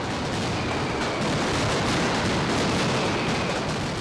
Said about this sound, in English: Hundreds of pounds of maroons are set off within a few minutes.